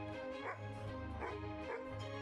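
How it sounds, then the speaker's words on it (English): Three yappy dog barks spaced apart, heard over a steady droning musical background, with a synthetic, game-like quality. "Did you just bark at me?"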